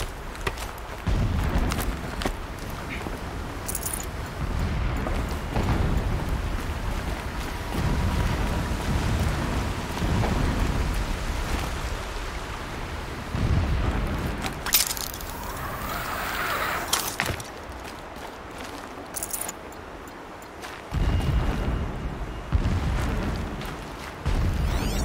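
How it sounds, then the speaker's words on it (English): Distant explosions rumble through the Horizon Zero Dawn video game, heard as a continuous low roar and crackle with repeated muffled booms and one brighter burst partway through. "Explosions in the distance."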